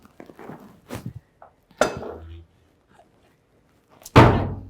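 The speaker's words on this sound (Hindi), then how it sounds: "आओ आओ, दरवाजा बंद कर दो।" A door slams shut indoors with a loud, sharp thud near the end, after several quieter knocks and bumps, with a crime drama setting and some sparse talk earlier.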